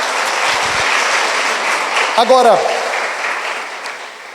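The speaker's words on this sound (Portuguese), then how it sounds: "Você pode dar uma forte salva de palmas ao Senhor?" A church congregation claps in a loud, dense round of sustained applause, steady and close throughout, with a brief voice speaking over it midway.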